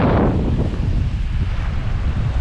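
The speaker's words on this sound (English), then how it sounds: "You probably hear the wind on the camera as well" Strong wind on the Baltic Sea coast buffeting the camera microphone, a loud low rumbling roar with gusty fluctuations, no voices.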